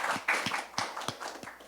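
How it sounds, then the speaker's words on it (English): Sparse, uneven clapping from a small audience welcoming a panel member at a community voting forum, a few distinct claps spread out rather than a full ovation. "please give Mikhael a round of applause"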